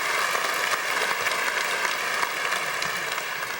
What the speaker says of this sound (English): You're getting a lot of applause here.